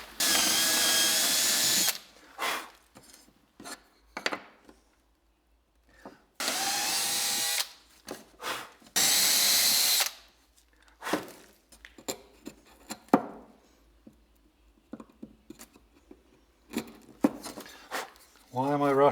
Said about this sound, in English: I'll drill some holes in it,